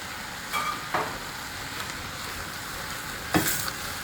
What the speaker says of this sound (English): I'm gonna toss in the noodles from earlier.